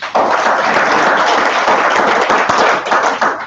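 A seminar audience breaks into a round of applause, dense continuous clapping from many hands that holds steady throughout, close and loud, with no talk over it.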